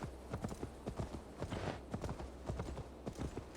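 Horse hooves clip-clopping at a steady trot in Assassin's Creed Valhalla, a brisk, even rhythm of close hoof strikes, clear and alone with no talk.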